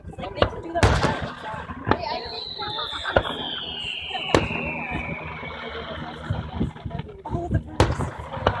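Independence Day fireworks go off at Shoreline Amphitheatre in Mountain View, with several sharp booms and crackles scattered across the clip and a long whistling rocket, the bursts rumbling in the distance while people chatter nearby.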